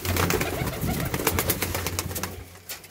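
Pigeons and pigeon chicks in a loft coo and murmur close by, a dense, continuous chorus of soft throaty calls with a few rustling sounds, fading slightly toward the end.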